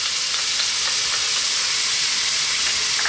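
Onions and garlic fry in hot oil in a pan, giving a steady, close, dense sizzle with faint crackles that runs evenly throughout with no voices.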